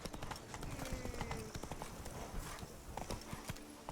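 A horse gallops in the video game Witcher 3, its rapid, steady hoofbeats drumming close over a busy background of game ambience.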